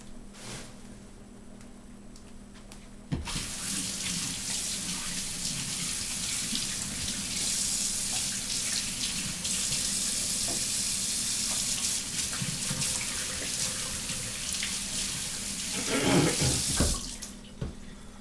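A sink tap runs for hands washed under it during a buffalo rib cooking session, after a brief quiet start, producing a loud, steady splashing rush that tapers off at the close.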